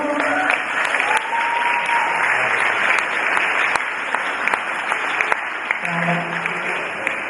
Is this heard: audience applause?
yes